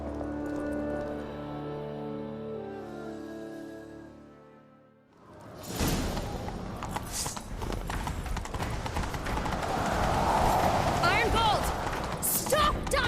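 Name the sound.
horse galloping in video game The Witcher 3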